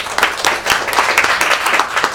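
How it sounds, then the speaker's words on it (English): A room of people at a Manchester entrepreneur social meetup clap for two guest speakers, a fairly close, uneven patter of individual hand claps. "So please give a round of applause for Emma and Davyd."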